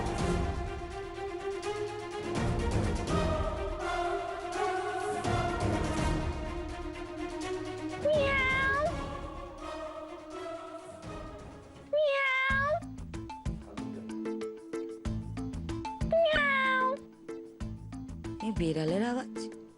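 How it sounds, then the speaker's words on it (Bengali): A house cat meows several times in a Bengali TV serial household scene at night, each call rising and falling, heard mid-distance over continuous music and voices. "বেড়ালের আওয়াজ"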